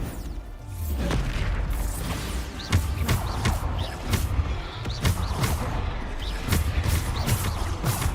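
Bombarda spell explosions in the Hogwarts Legacy video game, a rapid string of heavy booms and crashing impacts landing every half second or so, loud and punchy over a rumbling battle backdrop, no voices.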